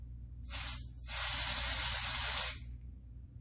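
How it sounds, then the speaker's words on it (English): An airbrush sprays foundation makeup in a short burst followed by a longer steady hiss of about a second and a half, close and fairly quiet, with no talk. "This is an airbrush type of foundation."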